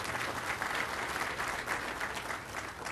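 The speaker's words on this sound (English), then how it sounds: "Let's give her another round of applause" Crowd at a town center groundbreaking ceremony applauding a local official, continuous dense clapping from many people, even and sustained, heard somewhat distant and soft with no speech over it.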